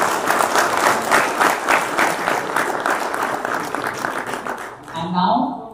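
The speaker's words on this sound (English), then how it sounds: "A round of applause for all these stalls as well" Crowd applause for the exhibitor stalls at a discus fish show and competition, steady clapping that fades toward the end as a voice begins speaking.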